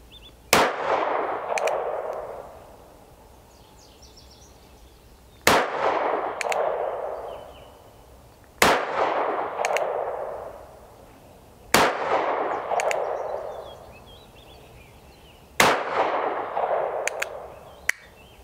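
A North American Arms .22 Magnum mini revolver fires five sharp, loud, ringing shots spaced a few seconds apart, each followed by a short decaying echo, with no speech between them.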